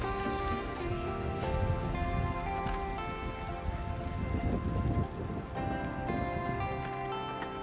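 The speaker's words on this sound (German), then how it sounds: "Da hat das mal richtig so einen Schauer erwischt." Steady rain shower patters loudly and continuously during an e-bike ride through the Münsterland countryside, a dense wash of drops over the whole stretch with faint tonal background sound and no talk.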